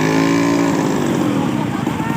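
A motorcycle engine drones loudly and close for a couple of seconds, its pitch steady then slightly shifting as it pulls up at a roadside pickup spot.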